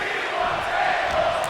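A wrestling arena crowd in WWE 2K25 roars in a steady, dense wash of voices with a faint chanting swell, continuous throughout.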